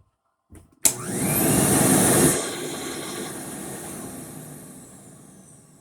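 A Rainbow E2 Gold vacuum cleaner switches on with a sharp click and a whooshing rise into a loud, steady roar that settles after a couple of seconds and keeps running alone.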